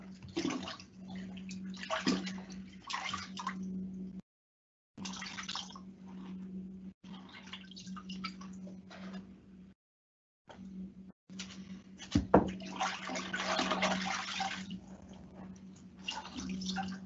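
Sponge and clear water wiping epoxy grout off shower tile: wet swishing and dripping in long continuous stretches, broken by brief silent gaps, close and moderately loud, with no voices.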